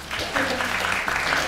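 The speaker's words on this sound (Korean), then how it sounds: "박수 한번 보실까요?" Brief applause from an audience at a university book forum, steady clapping with a voice talking over it.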